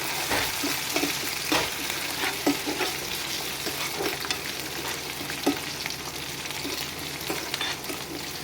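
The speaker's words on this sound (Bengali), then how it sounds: "এর মধ্যে আমি এই আলু কেটে রাখাটা দিয়ে দেব। এরকম করে লাল লাল করে ভেজে নিতে হবে।" Steady, loud sizzling of cut potatoes frying in a pan until reddish-brown, for an egg and potato fry, with occasional scraping and stirring clinks over the continuous hiss.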